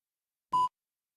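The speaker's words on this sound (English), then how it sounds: "Oh, phone call." A phone gives a single short electronic beep, clear and isolated against silence.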